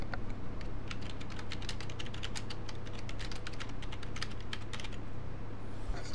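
Someone types on a computer keyboard in a steady, quick run of light clicking keystrokes. The sound is close and continuous for about six seconds, with no talking.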